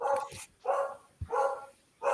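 A dog barks in the background, four separate barks spaced roughly evenly in a loose rhythm, fairly faint and somewhat distant, with quiet gaps between each.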